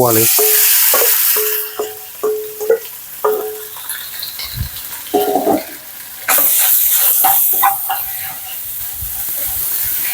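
Northern-style pork laab mixture with offal hits hot oil with a sudden loud hiss partway through, after a few quieter clinks and taps. It then settles into a steady sizzling stir-fry.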